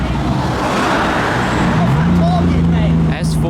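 Modified cars, including a Nissan S14, pulling up at a busy car meet with police around, engine drone rising and holding steady close by, with a short whistling tone and people talking over it.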